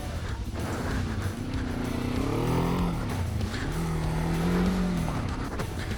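A Kawasaki KLE 500 custom motorcycle engine revs and accelerates, pitch climbing and dropping through gear changes, loud and close for several seconds with wind noise.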